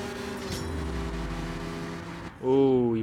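Engine of a car in the CSR 2 racing game, a steady tonal drone that cuts out briefly and then returns with a louder rising whine near the end.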